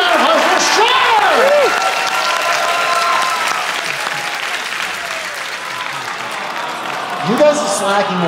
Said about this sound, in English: Give me a round of applause for Shark!